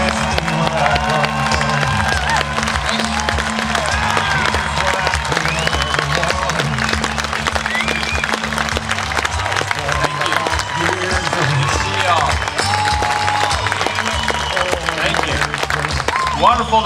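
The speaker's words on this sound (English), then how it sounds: "A big round of applause." An audience at a Dallas Tea Party rally giving sustained applause, dense steady clapping mixed with crowd noise and cheers that holds at a constant level throughout.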